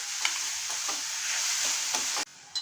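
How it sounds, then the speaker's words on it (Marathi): Grated pumpkin being stirred in a hot tempering pan, a steady frying sizzle with soft rhythmic scrapes of the spoon, close by, cutting off abruptly near the end, no talking. "व्यवस्थित आपण ढवळून घ्यायचं आहे."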